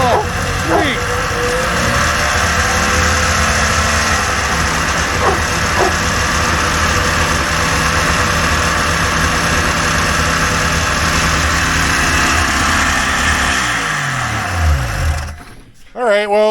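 A vintage Polaris XLT 600 triple snowmobile engine runs at a steady, slightly high idle just after starting, a loud continuous buzzing drone close by, with people talking over it before it shuts off near the end.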